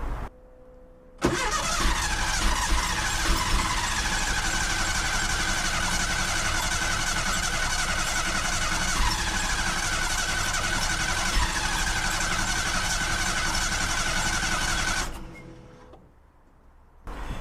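Porsche 914 engine fitted with dual Weber carburettors cranking for a long stretch without catching, a steady loud mechanical churn that runs about fourteen seconds and then stops.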